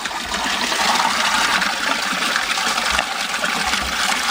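Water gushing steadily as a 70 watt pump pushes it through a pre-pump sieve filter and straight back into the tank, a loud, continuous rushing and splashing close by.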